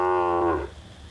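One close, loud moo from a cow being smuggled out of Burma, a long, deep call that fades out near the end, with no talking.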